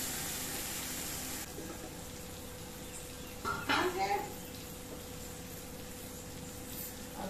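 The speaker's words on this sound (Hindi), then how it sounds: "अब ये डालूंगी इसमें कड़ी।" Kadhi poured into a hot, sizzling tempering with tomato in a pan, a steady sizzle and frying hiss with a short burst of pouring and splashing midway, while someone talks over it.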